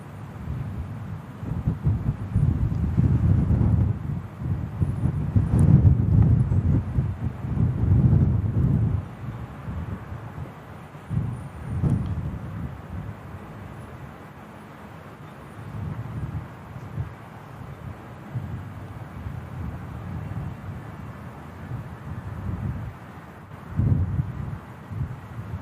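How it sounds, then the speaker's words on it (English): A Eurowings Airbus A319 from Stuttgart touches down at Manchester Airport on a windy day, its low roaring rumble swelling and fading amid heavy wind buffeting the microphone, with no voices. "Eurowings coming in from Stuttgart. An Airbus A319"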